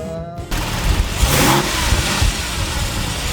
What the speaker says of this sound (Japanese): ザラッとしたハスキーな感じの音で、低い音とちょっと高い機械音っていうのが混ざり合った重音がすごい心地いいし、ポルシェらしいよね